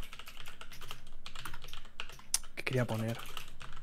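Rapid clattering of a computer keyboard typing under steady conversation in Spanish, with a louder burst of keystrokes near the end.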